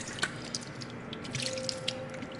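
A Boston butt is rinsed under running water, with a soft steady splash and patter of drips close by and no voices.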